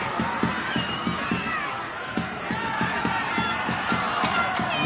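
A football crowd at Lakeside Stadium cheers during a men's playoff final between Melbourne City FC and Brunswick City FC, with steady rhythmic chanting or clapping beats rising over a dense roar and sharp whoops near the end.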